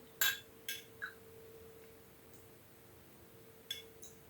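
Light metallic clinks of a spoon ring out, a few quick taps close together, then a pause and two more, against a quiet background.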